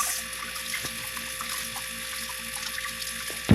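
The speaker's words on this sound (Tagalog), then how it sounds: "Hugasan natin yung loob." Tap water runs steadily into a sink while fish is washed, a constant close splashing stream that ends with a brief louder splash.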